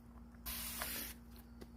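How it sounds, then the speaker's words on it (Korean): A single hissing burst of an odor and germ deodorizer spray lasts under a second, close and clear, over a faint steady hum with no talking. "제가 사용하는 스프레이입니다"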